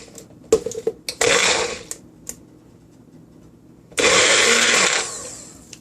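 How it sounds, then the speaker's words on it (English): A kitchen blender pulses spinach for palak paneer in two short, loud whirring bursts separated by a quiet gap, with a few clicks and taps before and between them. "use your blender and put the spinach in the blender"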